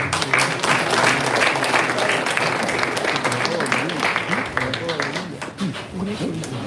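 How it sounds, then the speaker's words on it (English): Applause from an audience at a conservation and public health event with schoolchildren present, sustained clapping that fills most of the clip and fades slightly toward the end, with voices mixed in. "Can we clap?"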